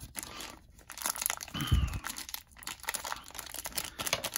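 Tape crinkles and tears in short bursts as a Masters of the Universe Origins Skeletor figure is unboxed, with packaging crumpling close by and a brief thump midway.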